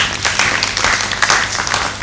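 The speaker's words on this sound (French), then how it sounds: "Ça s'applaudit s'il vous plaît." Audience applause at a public gathering in Guinea supporting General Mamadi Doumbouya, a dense crowd of clapping that runs steadily for about two seconds without pause.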